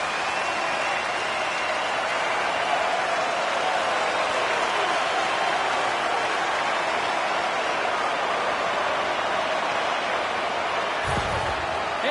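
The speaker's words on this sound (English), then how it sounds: "The crowd's loving it." Loud, steady crowd roar with cheering in an ice hockey arena after an Edmonton goal, simulated in the NHL 26 video game, sustained throughout with a thump near the end.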